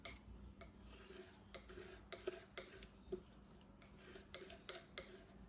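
Yellow and white oil paint being mixed on a palette, a quiet, close scrape and rasp of a knife stroking repeatedly across the surface.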